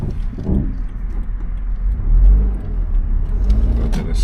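A car pulls away on a road during a driving test, its engine humming and building steadily up close, with low rumbling road noise throughout and no talking.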